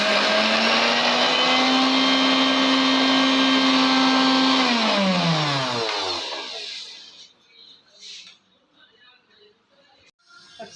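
A mixer grinder whirs loudly and steadily while grinding coconut paste for aviyal, then drops in pitch and spins down to a stop. Light handling noises follow.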